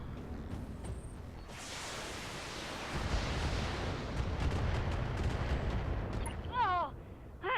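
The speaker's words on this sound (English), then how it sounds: "the strikers will get one turn to pelt us with missiles" In the Battletech video game, a volley of missiles pounds a mech in a continuous roar of explosive rumbling that swells midway, followed by brief electronic tones near the end.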